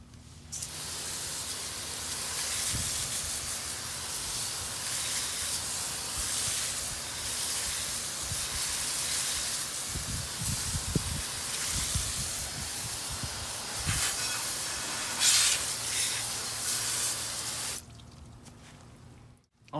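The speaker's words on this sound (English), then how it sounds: "Now we're gonna spray it off." A pressure spray hisses steadily as water rinses wheel cleaner off the wheels of a 2021 Chevrolet Trailblazer. The broad, continuous spray runs for most of the stretch with a few low thumps and shifts, then cuts off near the end.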